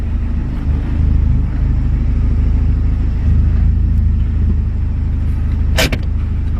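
A heavily modified 2.0 Theta inline-four in a Genesis Coupe runs with a steady, loud low rumble close by, briefly rising in revs, with a sharp click near the end.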